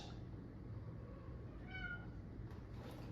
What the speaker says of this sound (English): I'm not sure if y'all hear my dang cat